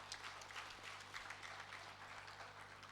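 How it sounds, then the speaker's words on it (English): Faint, steady applause from attendees at a land registration and documentation program event, continuous distant clapping over a low electrical hum. "I think we should clap for ourselves in this."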